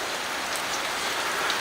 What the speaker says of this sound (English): And now you can hear the rain coming down.